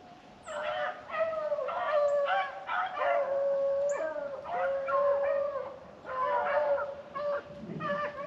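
Hunting dogs baying on a rabbit's track outdoors, a chorus of several overlapping howling, bawling voices carrying steadily from a moderate distance with brief pauses between bursts.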